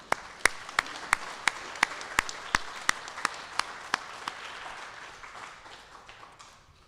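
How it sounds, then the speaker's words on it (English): Applause at a tribal college graduation ceremony: a steady run of sharp, evenly spaced claps over a softer crowd patter, gradually fading out. "How about a big round of applause to that beautiful video?"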